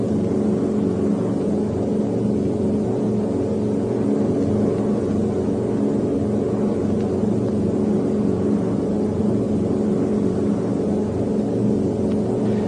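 The engines of a B-17 bomber drone steadily at reduced RPM, a constant, loud, low rumbling hum with no breaks and no talking.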